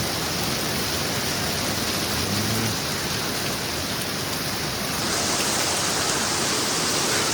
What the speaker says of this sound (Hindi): बारिश जैसी हो रही है